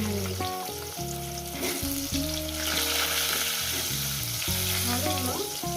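Food frying in hot oil for a fish curry with drumsticks and potato, a steady close sizzle with a scraping stir running throughout, and no talking.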